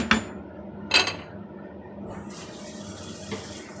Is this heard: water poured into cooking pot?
yes